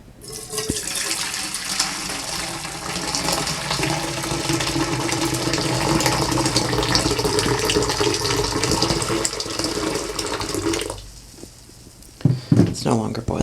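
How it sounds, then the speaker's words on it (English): Hot, just-off-the-boil water pours steadily into a vessel for about ten seconds, a hissing, splashing stream that stops, followed by a few brief clinks and knocks. "And I've got hot water."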